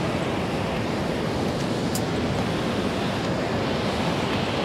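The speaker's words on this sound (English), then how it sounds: "It's a little windy," Strong wind on a beach ahead of tropical storm Francine buffets the microphone in a constant loud rush, a dense roaring noise with no voices.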